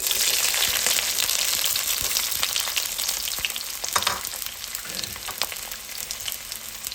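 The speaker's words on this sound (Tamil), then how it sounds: "இதில் சின்ன வெங்காயம் சேர்த்துக்கலாம்." Small onions, mustard seeds and dried chillies frying in hot oil for a simple crab masala, a loud continuous sizzle with a few stirring scrapes, close up and with no voices.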